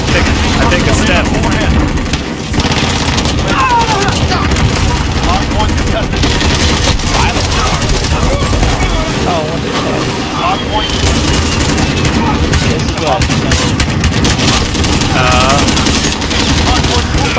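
Call of Duty gunfire in an eight-player team match, dense loud bursts of automatic fire and booms running continuously, with excited players talking over it.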